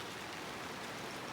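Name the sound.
rain falling outside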